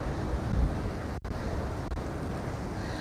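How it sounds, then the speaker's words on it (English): Strong wind and crashing surf on a windy Mallorca seafront at Can Pastilla make a loud, continuous roar, with buffeting wind noise on the microphone and a brief dropout partway through. "My goodness me, check out the waves."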